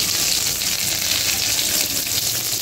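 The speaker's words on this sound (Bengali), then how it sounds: "কড়াইতে তেল দিয়ে দিয়েছি, ফোড়নে দিয়ে দেব গোটা জিরে" Whole cumin and black cumin seeds sizzling in hot oil in a wok, a loud, even, close hiss that holds steady without pause.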